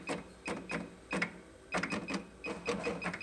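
An industrial sewing machine stepped through its motion with a plus key on the control, making short bursts of mechanical whirring and clicking in an irregular rhythm, close by with no talk.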